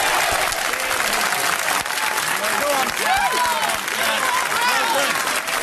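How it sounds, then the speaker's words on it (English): Labour backbenchers applauding in the House of Commons, a dense, steady wash of clapping mixed with crowd murmur and raised voices that continues throughout. "The Labour backbenchers are applauding this crap."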